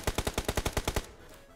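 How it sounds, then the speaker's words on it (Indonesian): A rapid burst of about ten automatic gunshots fired by a teammate in a video game, evenly spaced and loud, then cutting off abruptly into quiet background. "Kenapa temen gue nembak?"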